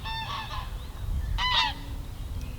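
Waterfowl at a quiet fishing lake surrounded by hills and farmland, giving two short honking calls, the second louder, over a low steady background rumble.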